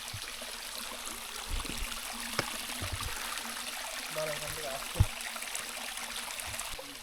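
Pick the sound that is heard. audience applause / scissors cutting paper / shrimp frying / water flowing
water flowing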